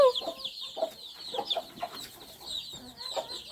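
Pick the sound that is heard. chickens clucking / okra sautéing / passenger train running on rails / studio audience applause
chickens clucking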